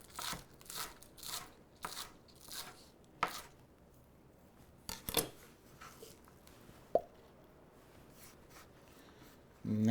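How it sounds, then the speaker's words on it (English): A knife chopping green onions on a cutting board, a series of quiet, sharp chops in an uneven rhythm with brief pauses, close and fairly faint. "Just cut those off and give our green onions a nice little chop."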